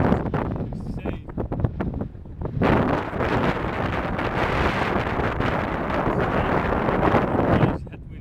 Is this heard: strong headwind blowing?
yes